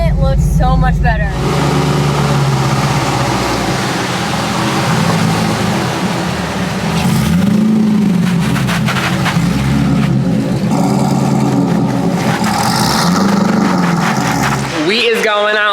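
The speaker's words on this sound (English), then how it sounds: "I'm gonna drive around a little bit, let the suspension settle, and maybe do a donut or so" Corvette engine driving and revving, a loud close rumble with rising and falling revs and a few surges, while people talk over it throughout.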